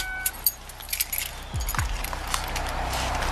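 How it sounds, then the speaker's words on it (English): Car keys jangle and clink in a few quick bursts as they are handed over from a stopped car during a police traffic stop, heard close up against a low idling rumble. "Turn off the car and pass me the keys, please."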